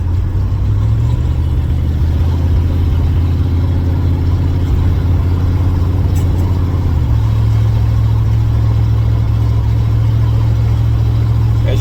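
A loud third-generation Chevrolet Camaro engine drones steadily while cruising, with a low rumbling exhaust note that shifts pitch partway through as the revs change, close and constant.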